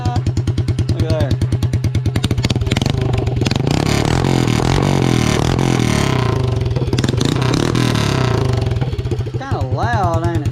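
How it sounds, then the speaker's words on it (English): A 2021 Honda CRF110F pit bike with a straight pipe exhaust revs hard, a loud, raw popping engine note rising and falling in bursts, with a voice heard over it near the end. "let's do a little straight pipe sound test like I did just a second ago"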